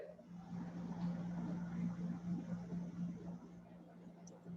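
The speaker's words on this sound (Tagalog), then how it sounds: "Medyo maingay lang po kasi nasa sasakyan kami." Faint, steady low hum of a moving car heard from inside the vehicle, a constant rumble with soft road noise throughout and no clear talk.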